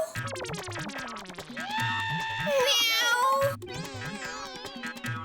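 A cat meows repeatedly in a domestic setting, its rising and falling cries close and fairly loud against a busy background of music and voices.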